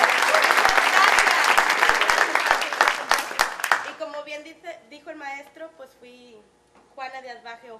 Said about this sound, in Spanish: Michelle Almeida, por favor, un aplauso.